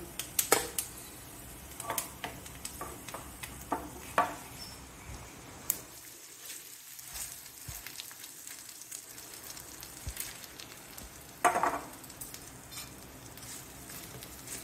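Hot oil tempering sizzles and crackles in short bursts with some clattering and stirring, then a brief louder hiss near the end as it is poured into raw mango coconut chutney.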